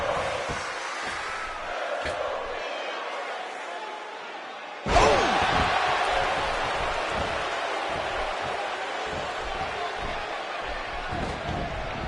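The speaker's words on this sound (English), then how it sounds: "by the sound of this crowd, I think they're getting what they wanted" Video-game arena crowd from WWE 2K16 roars suddenly after a quieter stretch, a loud sustained cheer with scattered claps and slams that keeps going without a break under the noise.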